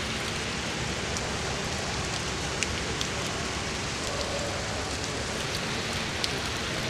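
Heavy rain falls steadily outdoors as a soft, even wash of hiss, with occasional sharper drops ticking through. It stays fairly faint and distant throughout.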